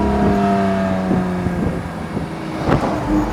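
A Lamborghini, either an Aventador or a Murcielago, revs its engine up and down, with a steady exhaust drone and a few sharp pops and crackles, heard close and loud.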